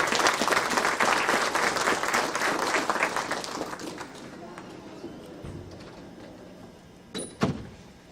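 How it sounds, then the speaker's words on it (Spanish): An audience at a congress applauds a speaker, loud sustained clapping that fades over several seconds, followed by a few thumps and a short squeak in the quiet room. "Recibamos con un fuerte aplauso"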